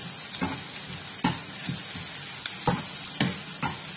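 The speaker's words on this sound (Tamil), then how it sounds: "அது வெங்காயத்துக்கூடையே போட்டு வதக்கி விட்டுருங்க பூண்டு." Crushed garlic and onions sautéing in a pan for dried vaala fish thokku, a steady low sizzle broken by about eight sharp spoon scrapes and knocks at irregular intervals, close and moderately loud, with no voices.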